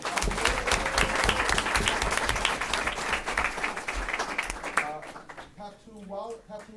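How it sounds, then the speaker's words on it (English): Audience applause at a school committee meeting, a dense steady burst of clapping for about five seconds that fades out, followed by someone speaking. "let's give a round of applause"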